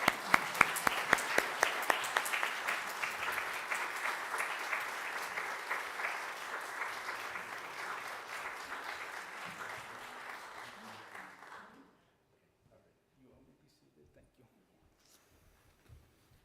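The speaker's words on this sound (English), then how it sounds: "Will you join me in a round of applause welcoming our new members?" A church congregation at a Sunday service gives a warm round of applause welcoming new members, individual claps crisp at first, then a dense, steady wash that stops abruptly, leaving near silence.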